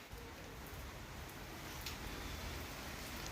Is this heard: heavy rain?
yes